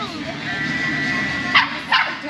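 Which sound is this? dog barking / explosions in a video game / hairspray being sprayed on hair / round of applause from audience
dog barking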